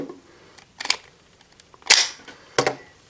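A toy DX Ride Watch from Kamen Rider Zi-O being twisted and pulled off its plastic DX Ride Watch holder, heard as a few sharp plastic clicks and snaps, close and loud, separated by quiet gaps.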